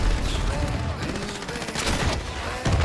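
Crossbow shots in the video game Modern Warfare, heard amid dense game combat noise with scattered sharp shots and a busy, loud background.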